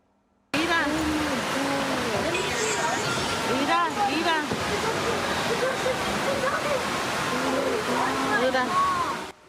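Floodwater roars down a swollen San Diego river carrying a car along, a loud continuous rushing churn with voices talking over it throughout.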